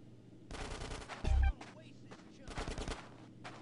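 Gunfire in GTA San Andreas, several rapid bursts of automatic shots in clustered volleys, one heavy booming blast in the middle, fairly close and punchy with quieter gaps between bursts.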